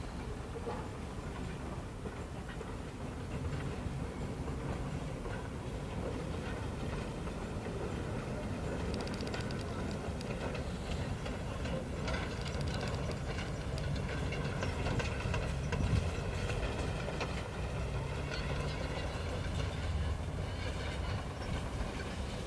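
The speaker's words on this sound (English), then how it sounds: "my next shot was of the engine passing by the actual Torch Lake." Torch Lake No. 3, a steam locomotive, rolls past beside Torch Lake with a steady, moderately distant rumble and clank of running gear, holding an even level without pause throughout.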